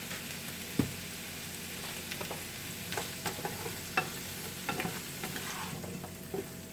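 Onions and vegetables fry in oil with garlic for shrimp chop suey, a soft, continuous sizzle broken by occasional spatula scrapes and light taps on the pan.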